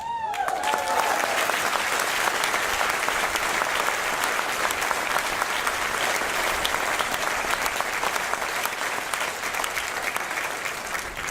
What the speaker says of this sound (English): Dear friends, spare your applause.